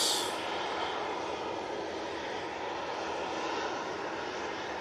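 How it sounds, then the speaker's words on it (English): An EasyJet airliner comes in to land at Manchester Airport from Faro, its engines a steady, broad rushing roar at moderate level with no voices. "Next inbound, we have the EasyJet."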